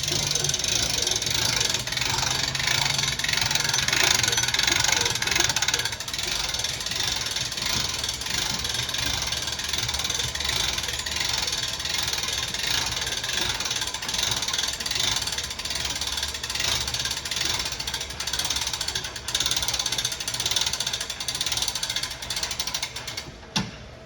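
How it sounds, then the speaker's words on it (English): Hand crank raising the roof of a 2016 Forest River Clipper 125 ST camper, giving a steady, continuous ratcheting mechanical whir that runs close and fairly loud for the whole stretch. "As we're bringing this roof up"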